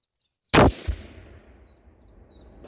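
A loud AK-74M crack as a bullet passes about 1.5 metres to one side, followed quickly by a second duller thump. Both sounds decay into a lingering outdoor echo, with faint bird chirps in the background.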